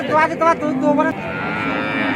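A cow at the Sharatnagar cattle market lets out a single close, loud, low moo lasting about a second, followed by a softer tail of background market noise.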